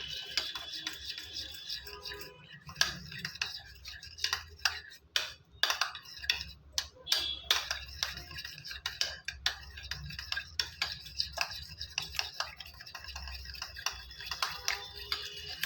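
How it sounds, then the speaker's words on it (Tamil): Curd and ghee are beaten together in a bowl for badusha batter, a quick, steady run of light ticking taps from the whisking utensil that continues close up for many seconds. "நல்லா அந்த தயிர் நெய்யும் வந்து நல்லா அடித்து விட்டுக்கணும்"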